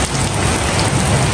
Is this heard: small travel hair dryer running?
no